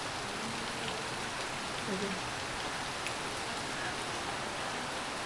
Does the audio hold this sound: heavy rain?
yes